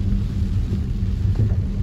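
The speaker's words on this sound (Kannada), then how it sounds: "ಫುಲ್ ಜೋರು ಮಳೆ ಬರ್ತಾ ಇದೆ." Heavy rain pours down steadily on a hill road, making a dense, continuous low roar with no voices.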